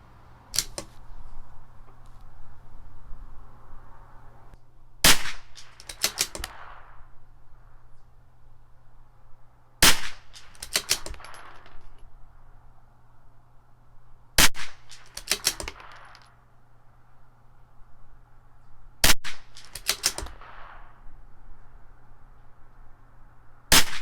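Five sharp rifle shots from a CZ 457 LRP with an IBI barrel firing Sellier & Bellot Canadian Match at 100 yards, spaced about five seconds apart, each a loud crack followed by a brief ringing tail over a low steady hum.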